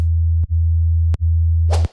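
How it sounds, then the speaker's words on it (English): A deep, fat synth sub bass tone, a layer in a track, holds steadily, broken by two brief clicks and ending with a short noisy burst. "This fat sub layer."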